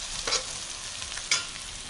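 Salmon with bell pepper frying in a pan, a steady broadband sizzle with two brief louder bursts, one near the start and one just past the midpoint, heard alone without talk.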